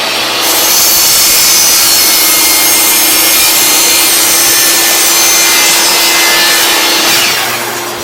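A miter saw makes a test cut through wood with a vacuum dust collection system running: a loud, steady whining buzz that starts abruptly, holds for several seconds, then winds down, with no talking.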